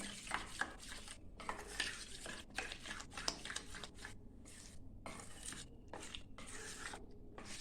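A spoon stirs semolina mixed with water in a bowl for dhokla batter. Faint, rhythmic scraping and swishing with small clinks of metal repeats closely for several seconds.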